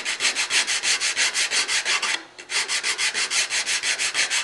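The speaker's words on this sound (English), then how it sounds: "at the very end, will come in with a profiled sander like this" A profiled sander with 80 or 100 grit sandpaper smoothing a curly maple spice box divider, making steady rhythmic rasping strokes, about four per second, close and alone, with one brief pause midway.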